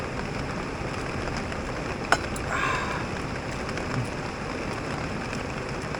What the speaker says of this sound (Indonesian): suara air terjunnya